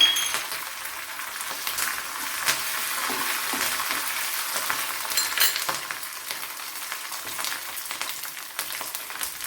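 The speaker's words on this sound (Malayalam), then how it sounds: "കറി ലീവ്സ് ഇട്ട് കൊടുക്കാൻ അതുപോലെ മുളക് ഇട്ട് കൊടുക്കാൻ" Curry leaves and chillies crackle and sizzle in hot oil for a Kerala drumstick dish, a loud, dense spitting hiss with scattered sharp pops and faint clinks, steady throughout with no talking.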